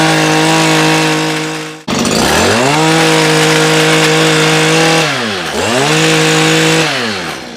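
A Stihl KM94R two-stroke engine, running on a 100:1 Amsoil Saber oil mix, roars loud and close at high revs, cuts out briefly, restarts, then sags and climbs again with two distinct throttle dips.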